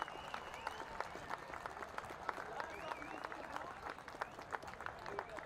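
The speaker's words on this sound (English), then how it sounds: "please give all of these men of Benedictine a great big round of applause" Crowd applause and cheering for high school football players at a Benedictine versus Cleveland Heights game, faint and distant in an open stadium, with whistles and voices scattered through the clapping.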